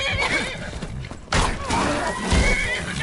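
Horse in The Elder Scrolls V: Skyrim neighing loudly during a bandit fight, a sharp whinny followed by clip-clop hooves and a second burst of neighing, close and loud.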